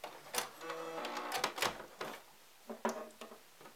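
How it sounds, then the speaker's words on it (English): A sewing machine stitches a small fabric gift booklet in short uneven bursts, quiet and close, with brief pauses between runs. "Okay, and then I'm going to stitch right here."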